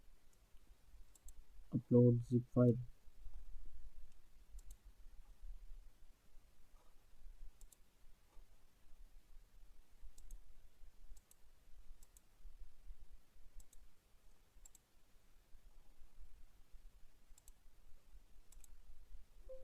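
Sparse, faint computer mouse clicks come from someone setting up a Shopify store theme, following a brief spoken phrase near the start. The soft, isolated ticks are spread irregularly through an otherwise quiet room.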